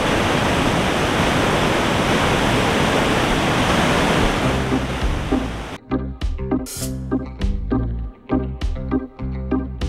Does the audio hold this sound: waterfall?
yes